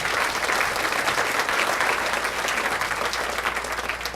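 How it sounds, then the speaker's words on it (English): An audience at a live music, dance and magic show gives the season's sponsors a hand, a full, even burst of crowd applause sustained from start to finish. "Give all our sponsors a hand"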